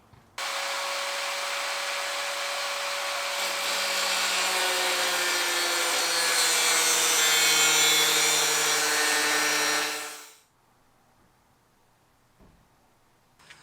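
A power saw cuts a chunk off a plastic interior panel from a 2018 Jeep, one loud continuous whining cut lasting about ten seconds with a rising tone, then stopping abruptly into near silence.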